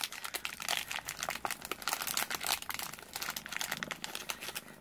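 Close, continuous crinkling of a plastic bag, with rapid irregular rustles and crackles at a soft level.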